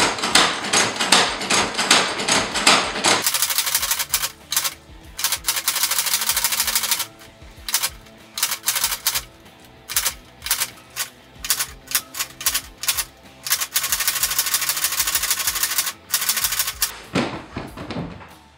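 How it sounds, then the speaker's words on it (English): Tippmann Boss hand stitcher sewing size 207 black thread through a leather fire helmet shield, making bursts of sharp rhythmic clacking punches separated by pauses, close and loud with no talk. "For this shield, I'll be using size 207 black thread on my Tippmann Boss stitcher."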